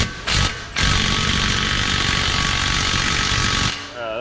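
A small 3/8-inch impact wrench hammers at welded-in parking brake bolts on a Cadillac Escalade, giving two short bursts and then one long, loud, steady rattling run that stops abruptly, with no talking.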